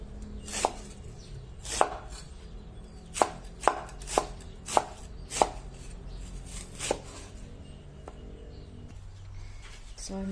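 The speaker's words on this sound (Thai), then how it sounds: "ซอยหอมแดงหอมใหญ่" A knife slices shallots and onions on a board in a series of sharp, separate chops, about ten in all at uneven spacing, close by over a low outdoor background with faint birds.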